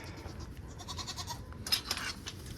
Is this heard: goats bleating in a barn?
yes